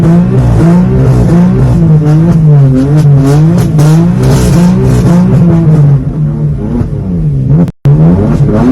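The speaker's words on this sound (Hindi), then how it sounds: "आप एंजॉय कर सकते हैं BMW 6 series 620D luxury line addition का एग्जॉस्ट नोट" BMW 6 Series 620d Luxury Line diesel exhaust note, loud and close, rising and falling through repeated revs in a wavering pattern, with a brief cut near the end before the engine note resumes.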